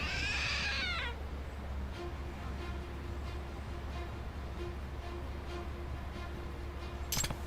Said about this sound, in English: It meowed. So it's a trick statue.